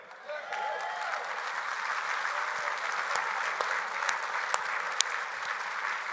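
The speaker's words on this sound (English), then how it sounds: "Clap your hands." An audience at a gathering applauds continuously, a dense, steady clapping that starts abruptly and holds at moderate level, with a few sharper individual claps standing out.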